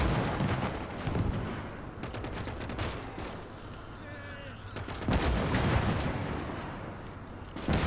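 Gunfire in the Gates of Hell strategy game, with repeated bursts of shots and booming blasts crackling across a busy battlefield, some bursts louder and nearer than others.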